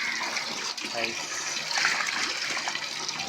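Steady splashing and gushing of water poured continuously onto a tulsi plant, fairly close and moderately loud, with no pauses.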